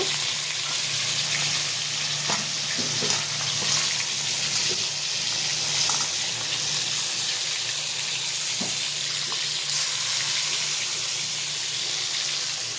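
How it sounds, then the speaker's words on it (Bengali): Hilsa fish frying in a pan gives a steady, dense sizzle and hiss, close and even throughout, with a few faint clinks and no talking. "ইলিশ মাছগুলো ছেড়ে দিচ্ছি, হালকাভাবে ভাজা করে নেব।"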